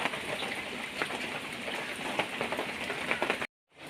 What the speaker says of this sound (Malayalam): എന്തൊരു മഴയാണ് അത്! ശരിക്കും മഴക്കാലം പോലെ ഉണ്ട്.